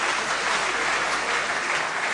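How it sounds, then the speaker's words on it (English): Audience applause for the President of Côte d'Ivoire at a military cadet convocation ceremony, a dense steady wash of many hands clapping continuously throughout, fairly loud and even. "Another round of applause for His Excellency"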